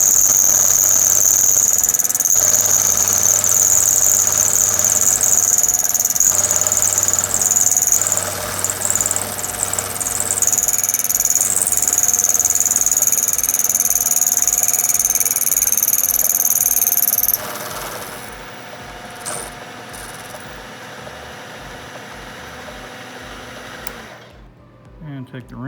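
A metal lathe running steadily with a loud high-pitched squeal as a part is faced to length, the cut ending and the machine winding down near the close.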